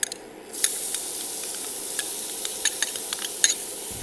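Shallots or finely chopped onions hit hot oil in a pan and break into a steady, close sizzle, with a few light scrapes and taps of a utensil over the hiss and no talking.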